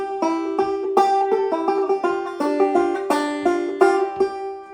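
An old-time banjo plays a five-count roll with a pinch of the first and fifth strings, bright plucked notes in a steady rhythmic pattern, close and clear with no talk.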